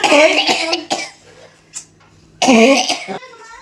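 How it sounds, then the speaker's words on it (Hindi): A few harsh coughs, then a short pause and another burst of coughing, close and loud. "तो अम्मी को रही थी खांसी अभी"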